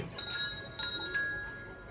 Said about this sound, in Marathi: ती पतळीची घंटी